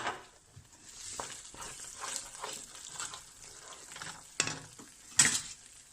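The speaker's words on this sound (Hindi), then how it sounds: "ये जाते हैं हमारे पोटैटोज़। इसको क्विकली एक स्टर दे देंगे" Double-fried chili potatoes are tipped into a sauce with a splash of vinegar in a pan and quickly stirred, giving a soft sizzle with scraping spoon strokes and a couple of sharp clinks against the pan, close by.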